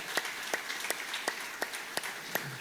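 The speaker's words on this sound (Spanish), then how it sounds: "Si tú lo quieres, darle palmas al Rey. Apláudele fuerte, por favor." A church congregation applauds, giving a steady patter of light, evenly spaced claps that sound somewhat distant and moderately quiet, with no voices over them.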